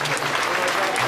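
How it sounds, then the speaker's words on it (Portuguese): A pageant audience breaks into dense applause in a short, loud burst of clapping and crowd noise, with a voice speaking over it. "A ela e à Cristina, uma salva de palmas."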